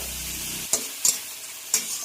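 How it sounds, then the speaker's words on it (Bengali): Prawns seasoned with salt and turmeric fry in a pan for a pumpkin curry, a soft steady sizzle with three or four sharp scrapes of a spatula stirring them. "চিংড়ি মাছগুলো দিয়ে দিয়েছি আমরা ভাজার জন্য।"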